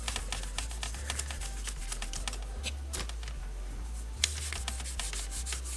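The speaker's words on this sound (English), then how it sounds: "You're going to get your microfiber cloth, and you're going to buff it in." A microfiber cloth buffs polish into the plastic shell of a Digimon Accel toy, making a continuous close, soft rubbing hiss with quick scratchy strokes over a low background hum.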